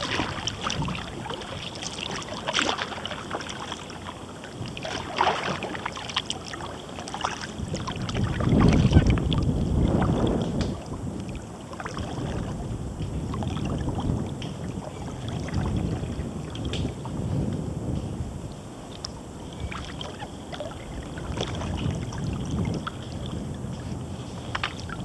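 A kayak glides through mangroves at St Lucie Inlet Preserve State Park, with steady paddle strokes and water swishing at close range over a constant wind rumble on the microphone.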